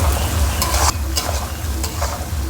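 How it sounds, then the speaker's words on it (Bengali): Onion, ginger and garlic fry and are stirred in a hot pan for poultry meat curry, a loud steady sizzle with a few scraping stirs breaking through, close by and without talk. "পেঁয়াজ আদা রসুন দিয়ে দিচ্ছি এবার শুধু কষা চালু হলো"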